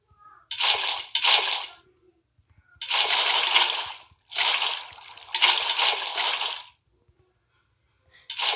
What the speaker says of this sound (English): fill this part in with water